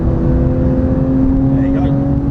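A car engine holds full throttle on a race track, a loud, steady droning hum with a sustained pitch, heard close from inside the car.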